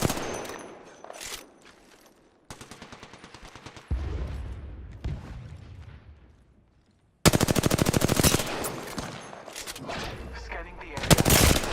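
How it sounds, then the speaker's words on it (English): Sustained automatic weapon fire in the video game Apex Legends, with loud rapid bursts broken by brief pauses and quieter stretches, then a long heavy stream of shots near the end. "I am taking fire."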